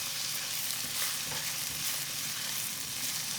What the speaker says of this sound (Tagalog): Lutuin na din natin yung hipon.